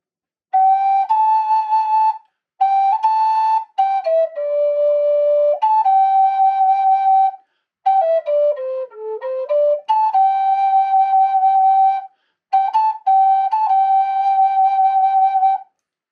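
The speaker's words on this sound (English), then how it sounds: "Sounds like this on the A flute." A Harold Chambers flute in Eb4, tuned to mode 5, plays a scale as a string of clear, breathy whistle-like notes. The phrases step up and down, with short pauses between them.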